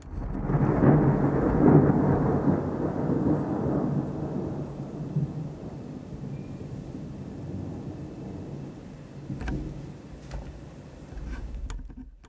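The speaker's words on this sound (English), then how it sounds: "Are you guys getting that thunder?" Thunder from a passing storm rumbles loudly at first, then fades into a lower, drawn-out roll with light rain and scattered crackles, no voices.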